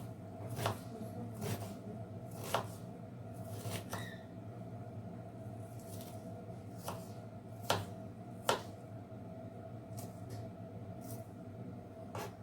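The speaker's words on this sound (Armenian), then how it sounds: "Վերցրել է միջին չափսի 2 գլուխ սոխ, մանրացնում է սոխառածի համար։" Knife chopping two medium onions on a board for frying, sharp irregular taps spaced a second or so apart over a steady low background hum.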